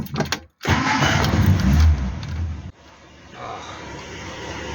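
A Hillman Superminx car engine cranks and catches, a loud burst of starting that settles into a steadier, quieter idle running on to the end.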